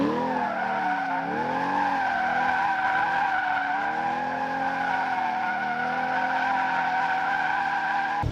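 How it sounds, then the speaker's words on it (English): A mid-engine Chevrolet Corvette C8 drifts with its tires skidding and squealing continuously, the engine droning and rising and falling in pitch beneath the loud, sustained screech throughout. "that's a pretty clean example of how you can drift this car"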